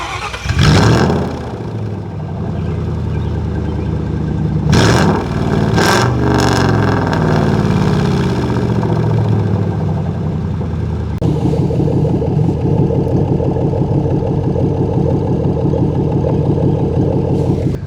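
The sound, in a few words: Lincoln car with MagnaFlow straight-through exhaust running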